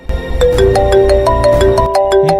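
A loud mobile phone ringtone plays a bright, repeating electronic melody of quick stepped notes over a thumping beat, close and continuous.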